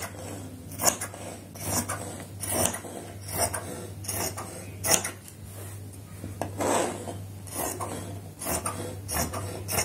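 Scissors cutting fabric for a designer nightdress, with a series of rasping snips at an irregular, fairly quick rhythm, close and distinct over a low steady hum.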